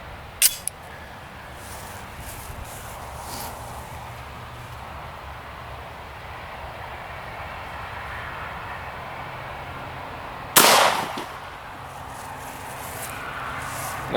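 A .45 ACP pistol loaded with Hornady Zombie Max fires at water jugs outdoors: two sharp, loud reports, one early and one near the end, over steady background rumble.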